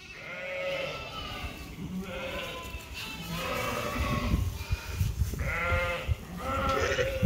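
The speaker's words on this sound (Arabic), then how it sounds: "خرفان كيعجبهم الحال." Sheep bleat repeatedly at close range, several overlapping calls in bursts over a steady barn background, fed on a bale of fine straw.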